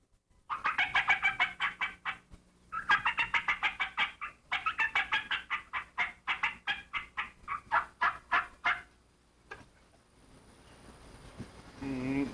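Wild turkeys call in rapid runs of raspy yelps and clucks, including a hen, fairly close, with short pauses between bursts before fading to quiet.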